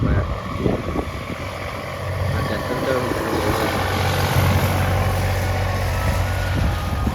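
A farm tractor's engine rumbles steadily as it drives away outdoors, a loud continuous drone with wind and background noise.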